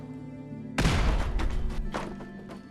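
A thrown grenade in Fallout 4 lands with a sudden heavy thump and booming burst that rolls off into scattered rumbling debris over a low ambient hum.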